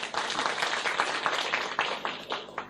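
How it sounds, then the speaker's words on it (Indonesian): Seminar audience applauding, a dense wash of many hands clapping steadily at moderate distance with a few sharper individual claps rising out of it. "Tepuk tangan buat Anda semua."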